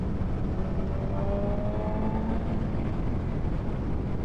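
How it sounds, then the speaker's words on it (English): A BMW M1000R Competition motorcycle engine pulls hard under steady wind roar while riding, with a faint rising whine partway through. "This bike is pulling strongly."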